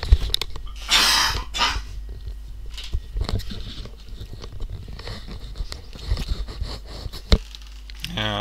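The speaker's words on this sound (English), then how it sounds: "and I've got a cough" A few close, rough coughs come early, followed by quieter clicks and shuffling noises in a small room.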